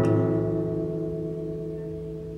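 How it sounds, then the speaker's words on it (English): A guitar note and its first six overtones folded into one octave, heard as a dense, slightly dissonant sustained chord that starts bright and slowly fades over two and a half seconds. "if I transpose a note and the first 6 overtones into a single octave,"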